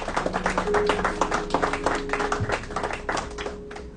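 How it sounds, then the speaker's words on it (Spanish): A church congregation applauds with dense, busy clapping that holds steady across the whole stretch, while sustained tones from instruments sound underneath. "Yo quiero que ustedes den un aplauso a Jesús por eso."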